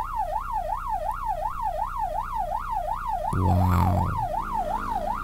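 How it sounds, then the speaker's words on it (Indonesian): An ambulance on a Malaysian road sounds a wailing siren that sweeps up and down in a fast, regular cycle, loud and close. A heavy low engine rumble swells briefly partway through, and a person gives a short exclamation. "Kalau ada ambulan tuh harus kita kasih lewat seperti itu."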